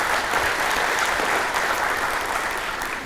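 Steady applause from an audience at a Columbia County civic event, welcoming the city administrator onto the stage; dense, even clapping that holds for about three seconds, with no voices over it.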